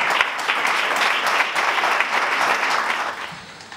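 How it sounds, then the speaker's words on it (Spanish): Steady applause from an audience at the closing ceremony of a Madrid film festival, dense clapping sustained throughout and tapering slightly at the end, with no talk over it. "Un fuerte aplauso."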